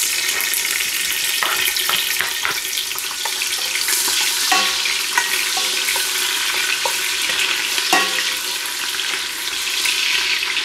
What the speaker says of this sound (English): So once the oil is hot, I'm going to put the onions in.